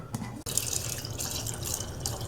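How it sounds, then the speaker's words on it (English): Water runs steadily from a tap in a home brewing setting, a constant close rushing hiss after a short click, with no talking. "that water's coming right out of the tap"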